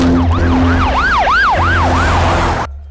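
An ambulance siren wails close and loud in a rising and falling, repeating yelp over a low engine rumble and road noise, then cuts off abruptly near the end.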